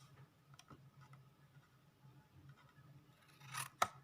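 Scissors snipping paper to trim the edge of a handmade scrappy notepad, a series of faint, quiet ticking cuts in a loose rhythm, closing with a louder crisp snip near the end.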